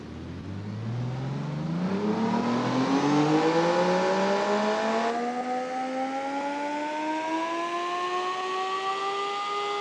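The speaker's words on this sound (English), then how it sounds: "Original engine sound." A DeLorean DMC car's original engine revs up steadily, its pitch climbing smoothly and holding high, loud and close with no talking.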